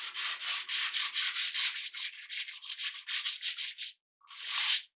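Sandpaper works the binding of a handmade mandolin down to 100 grit in a luthier's workshop: a quick, even series of close, raspy back-and-forth strokes, then a brief pause and one final stroke.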